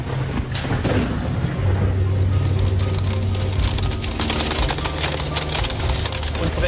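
A thunderstorm with loud, rolling thunder rumbling over steady heavy rain, dense and continuous throughout with occasional sharper cracks.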